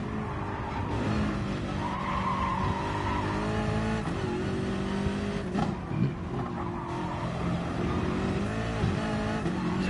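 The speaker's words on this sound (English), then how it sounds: "BMW M6, if anyone's wondering." A BMW M6 race car laps the Nordschleife during practice for a five-hour endurance race, with a loud sustained engine drone, shifting revs and tire squeal throughout.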